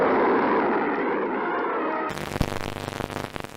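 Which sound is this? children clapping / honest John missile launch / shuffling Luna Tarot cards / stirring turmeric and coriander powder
honest John missile launch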